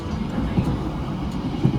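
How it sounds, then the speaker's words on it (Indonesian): Steady low rumbling roar of a Kutojaya train locomotive, heard from inside a moving carriage at about 80 km per hour, continuous and fairly loud with small bumps and rattles throughout. "Jadi kedengeran banget suara deru lokomotifnya."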